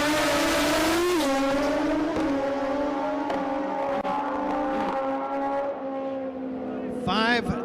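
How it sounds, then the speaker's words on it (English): A Kawasaki drag racing motorcycle in the Top Gas category makes a loud, sustained high-pitched engine scream at a drag strip event, rising and shifting in pitch through gear changes before fading near the end. "Deshaun Wheeler on a Kawasaki, wheeling a Kawasaki over there."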